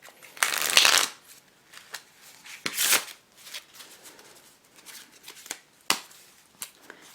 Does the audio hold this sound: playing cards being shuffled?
yes